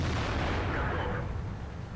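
A tank cannon firing in the World of Tanks video game, heard from an SU-100Y: one sharp, heavy boom that decays over about two seconds, loud and close.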